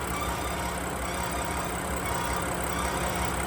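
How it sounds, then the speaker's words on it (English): BMW S55/N55 engine idling with a failed PCV valve, a steady mechanical hum with a thin, sustained high squeal like a slipping belt, continuous and close throughout. "It almost sounds like a belt is squealing or like a seagull or something."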